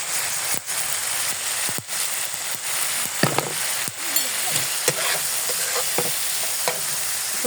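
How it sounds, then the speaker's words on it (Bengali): Spice masala with tomato paste and turmeric powder frying in a pan for a pangas fish bhuna, a steady hiss under irregular spoon scrapes and knocks, close and fairly loud, with no one talking. "এখন ভালোভাবে মশলাটা কষিয়ে নেব। এখন দিয়ে দেবো হলুদ গুঁড়ো"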